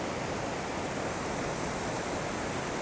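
A small waterfall on a High Sierra mountain stream roars in a dense, unbroken rush of white water, loud and close throughout.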